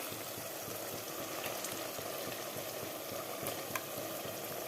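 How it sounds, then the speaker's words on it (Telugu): Chicken leg pieces fry in oil with onion masala for a Karnataka-style chicken dum biryani, giving a steady, close sizzle with occasional soft crackles and stirring, no voices. "ఇప్పుడు ఇందులో నేను చికెన్ పీసెస్ వేస్తున్నాను."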